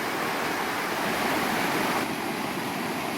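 Gragg Prong Falls in Pisgah National Forest, North Carolina, roars as a steady, dense rush of falling water, close and constant with no voices.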